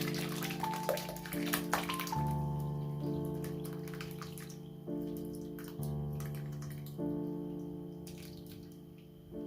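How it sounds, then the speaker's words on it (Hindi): Water pouring and trickling as curdled milk chhena for rasmalai is strained through a cloth, with several splashing pours separated by short pauses and a sustained ringing tone from the vessel, close and fairly quiet. "अब मैं इसको कपड़े में छान देता हूँ।"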